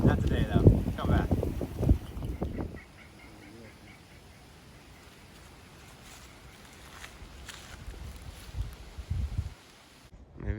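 Wind buffets a handheld microphone outdoors on a trip in Japan, strong rumbling gusts for the first few seconds, then quieter breezy noise with occasional low bursts and a person talking.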